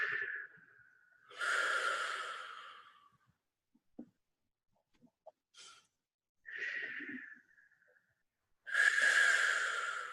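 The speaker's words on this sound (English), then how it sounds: "let's do 3 deep breaths" A group taking deep breaths during an online light language session, heard as long, airy inhales and exhales with sighing releases, a few soft separate breaths and clicks between them, close and quiet.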